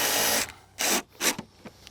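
Drill driving into softwood lumber for a raised garden bed, a loud whining burst followed by several shorter grinding spurts with brief pauses between them, close by with no talk.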